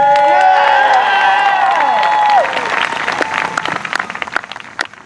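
Show audience cheering loudly, with shouts, whoops and sustained yelling at first, then giving way to scattered, fading applause and a few claps from a large crowd in a hall.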